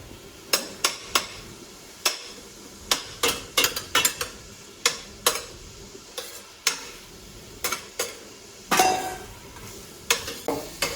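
Cured ham cooking in a pan for a Spanish seafood fricassee, zarzuela de mariscos, with sharp repeated clacks of a utensil stirring against the pan over a soft background sizzle, no talking.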